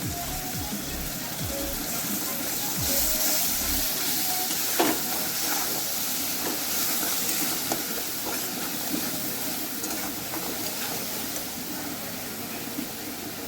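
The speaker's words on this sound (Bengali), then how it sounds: "টমেটোটা খুব ভালো মতো করে ভাজবো, ততক্ষণ পর্যন্ত ভাজবো যতক্ষণ টমেটোর কাঁচা গন্ধটা পুরোপুরি চলে যায়" Tomato paste frying in a pan, a steady broadband hiss with a soft continuous sizzle running throughout at moderate level, with a few faint knocks and no speech.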